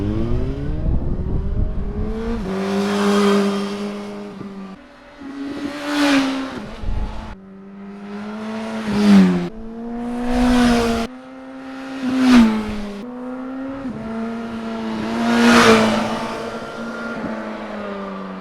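A 2020 Suzuki Katana with a Scorpion Red Power slip-on exhaust being ridden, the engine revving up through several gear changes in repeated rising pulls, loud and close, then easing off between bursts.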